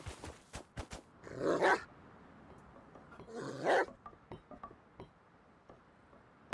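Dogs bark and growl in the survival video game Rust, two loud bursts of barking several seconds apart among scattered clicks and thuds.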